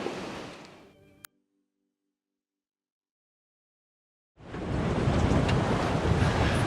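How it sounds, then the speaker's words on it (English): Wind and rough sea roar loudly around a boat, broken by a sharp click and several seconds of complete silence before the rushing surf and wind return. "quite windy out here"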